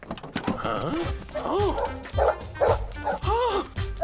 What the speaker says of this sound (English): It's that grumpy dog.